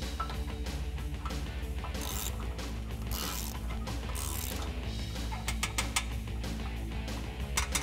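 Hand ratchet with a 5-inch extension tightening winch mounting bolts on a Jeep Wrangler, giving rapid, steady clicking close by at low level for the whole stretch, no voices.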